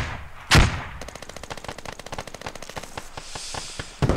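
Rapid automatic gunfire from the military shooter Squad during a rooftop firefight, a steady stream of sharp, close shots with a louder blast near the start and another at the end, no talking.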